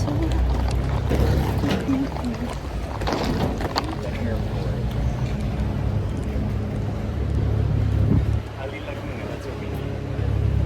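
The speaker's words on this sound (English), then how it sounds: "we made our way out to the dock to wait for the airport boat" An airport boat's engine drones steadily on the water in Venice, Italy, with water rushing and wind noise close by, loud and continuous throughout.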